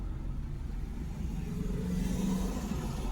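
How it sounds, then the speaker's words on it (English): V8 car engine, steady low rumble from a nearby car with a slight rise in revs toward the end, heard alone without talk. "That's a V8."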